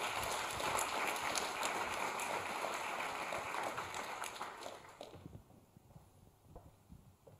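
Audience applause at a data science talent event as a speaker comes on stage: dense, steady clapping for about five seconds that then thins out and dies away.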